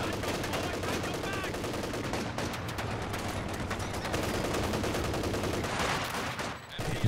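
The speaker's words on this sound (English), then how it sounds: "MG lining up over here" Rapid machine-gun fire and scattered gunshots from the Company of Heroes 2 battle game, dense crackling bursts continuing throughout.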